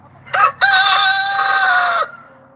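A rooster crows loudly and close, a short opening note followed by a long strained call of about one and a half seconds, alone against a quiet backdrop.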